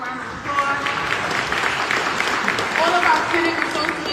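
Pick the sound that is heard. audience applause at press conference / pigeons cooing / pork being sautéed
audience applause at press conference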